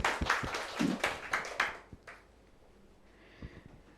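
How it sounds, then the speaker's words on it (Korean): Audience applause for a child named Damin at a church seminar, a burst of clapping that fades out after about two seconds, followed by quiet room tone and a faint tap. "자, 우리 다민이 박수 좀 쳐주세요."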